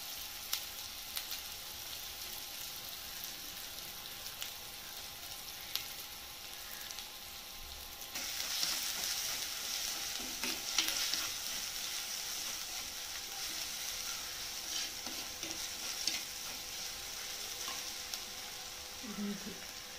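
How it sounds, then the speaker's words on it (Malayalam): Ginger, garlic and small shallots sautéing in a pan for a fish curry, a steady soft sizzle with occasional stirring scrapes running throughout, no voices. "ഇഞ്ചി, വെളുത്തുള്ളി, ചെറിയ ഉള്ളി, വെളുത്തുള്ളി ഇതെല്ലാം കൂടെ വഴത്തിക്കൊണ്ടിരിക്കുകയാണ്."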